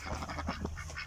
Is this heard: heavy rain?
no